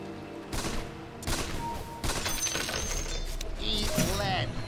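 Dense gunfire in a shooter video game rattles through the whole stretch, with short breaks, breaking and shattering effects, and a voice talking over it.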